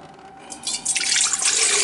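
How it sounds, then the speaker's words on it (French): Water pours into the bowl of a stand mixer while bread dough is being prepared, starting as a faint trickle and swelling into a steady, close, splashing stream with no talking. "Alors, on va mettre dans le batteur l'eau."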